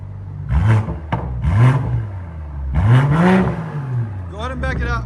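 A BMW M340 with its 3.0L turbocharged engine and Dinan cat-back exhaust revs up and falls back three times in Sport mode, each loud, close rev swelling and dropping, with a brief voice near the end.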